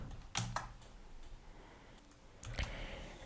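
Typing on a laptop computer keyboard, a few faint, sparse key clicks in two small bursts over a quiet background.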